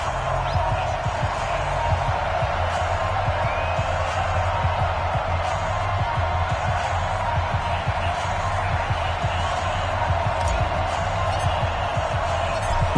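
A stadium crowd in an EA Sports NFL video game, Chicago Bears against London Bulldogs, keeps up a steady, dense roar of cheering and murmur throughout, with a commentator talking over it.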